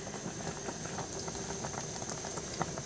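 A covered pot of fish sinigang with crabs, shellfish and vegetables bubbles at a steady boil, a soft continuous patter of popping bubbles heard up close and alone.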